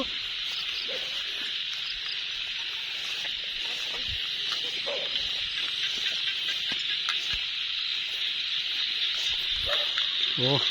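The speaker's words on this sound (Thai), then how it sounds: "เสียงหมาเห่า" Dogs bark and yip intermittently in the distance at a rural Thai spot where fighting fish are caught, the faint barks set against a constant high insect and frog chorus.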